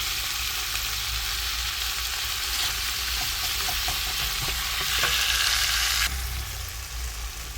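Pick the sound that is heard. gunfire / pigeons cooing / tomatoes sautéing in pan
tomatoes sautéing in pan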